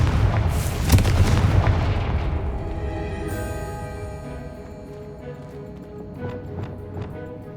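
Confringo fire spell blast in Hogwarts Legacy, a loud booming explosion at the start that rumbles and slowly decays, followed by a faint ringing tail and small debris sounds.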